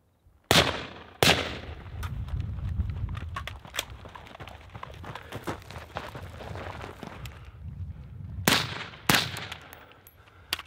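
Rifle shots fired during an outdoor shooting drill, two quick loud cracks at the start and two more near the end, with shuffling movement and handling noise between them.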